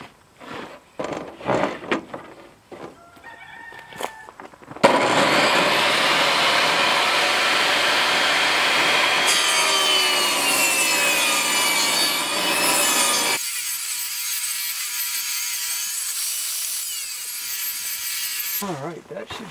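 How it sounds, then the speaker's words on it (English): A saw rips wooden filler strips for windows in a DIY composting outhouse: a loud, continuous cutting whine for about ten seconds, preceded by scattered knocks and handling noises, then a quieter, thinner run before stopping. "Need to rip a bunch down an inch and an eighth for filler strips for the windows."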